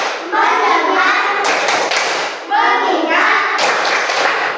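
During a Hindu religion lesson, a group of students performs a focus clap, producing repeated bursts of many hands clapping between loud unison chanting from the class.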